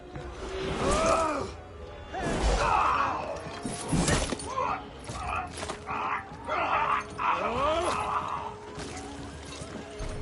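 Dog barking in a PS4 video game battle, several sharp barks and yelps scattered over ten seconds amid clattering and combat noise, with voices speaking over parts of it.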